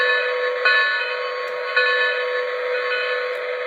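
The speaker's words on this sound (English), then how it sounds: "So here's the bell." A model train locomotive's sound-effect bell clangs in an even, repeating ring, bright, steady and electronic-sounding, with a couple of faint clicks behind it.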